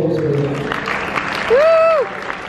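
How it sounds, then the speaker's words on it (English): An audience applauds at a prom event, a crowd of clapping mixed with cheering and a rising whooped voice near the end, with talk running underneath. "can we give him a round of applause, please?"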